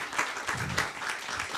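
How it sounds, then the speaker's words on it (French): An audience applauds in a hall, a short dense burst of clapping that swells and fades in waves, heard at moderate distance. "Oui, vous pouvez applaudir."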